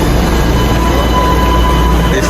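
Loud, constant rumble and rattle from inside a moving train in Panama, a steady roar of wheels and carriage with no clear speech over it.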